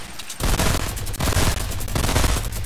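Rapid bursts of automatic gunfire in Fortnite as players shoot down a supply drop, loud and close, with three or four sustained volleys separated by brief gaps.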